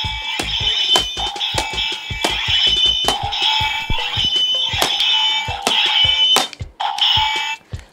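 Toy lightsaber set to blue, giving loud electronic hum-and-clash sound effects with repeated sharp pulses and sustained buzzing tones, close and without talk.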